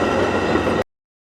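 The last car of a passing train rolls by in Chicago, a loud close rumble with steady wheel noise that cuts off abruptly.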